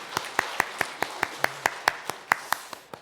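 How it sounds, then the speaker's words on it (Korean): Church congregation clapping in worship, heard as about fourteen crisp, evenly spaced claps in a steady rhythm, fairly faint against a quiet room. "하나님께 영광의 박수 올려드립니다."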